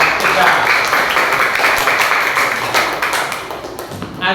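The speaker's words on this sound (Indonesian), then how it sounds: "Tepuk tangan untuk kelompok 3." Classroom group clapping for a presenting group, a dense burst of hand claps close by, loud at first and tapering slightly.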